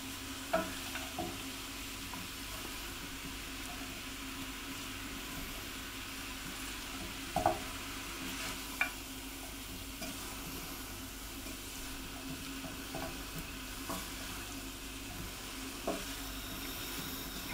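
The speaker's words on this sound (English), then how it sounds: "We're just stirring it through, heating up the potato chunks." Potato chunks being stirred into a simmering vegetarian sausage and bean casserole in a pan; soft, continuous scraping and gentle sizzle with occasional faint clinks of a utensil, no talking.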